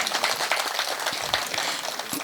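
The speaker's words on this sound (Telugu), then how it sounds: "ఈ నాటకాన్ని ఇంకా కొనసాగిస్తున్న కళాకారులందరికీ కూడా ఒక్కసారి మనం చప్పట్లు కొట్టాల్సిందండి" An audience at a cultural event applauds drama artists with a dense, continuous crowd clapping that stays fairly even through the short stretch.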